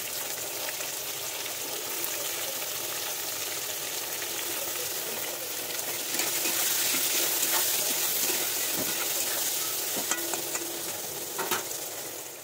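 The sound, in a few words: onions frying and stirred in a pan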